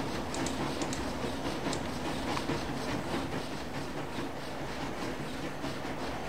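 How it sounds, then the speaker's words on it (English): Steam train with a heavy coal load running in a zombie train video game, a continuous dense rumble with fast rhythmic clicking of wheels over rails, steady and fairly faint. "Look how long this train took to stop."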